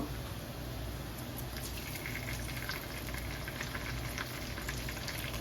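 Onion, garlic and green chilies fry in a pan with a steady, soft sizzle, a continuous crackling hiss with faint pops, close and quiet, without talk.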